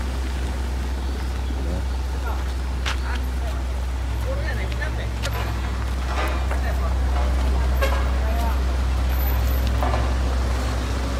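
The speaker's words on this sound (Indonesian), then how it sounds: "Itu baru dua kendaraan ya yang lewat." Trucks and cars rumbling over a freshly filled, compacted but already damaged road, a loud continuous low drone throughout with a horn toot and people talking over it.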